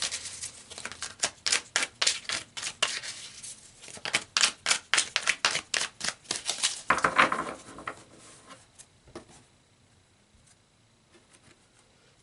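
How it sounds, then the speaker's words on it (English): Tarot cards shuffled and pulled from a deck, a rapid run of crisp riffling slaps and flicks for several seconds, then a few softer card handling sounds trailing off into near silence. "let's pull some more cards here"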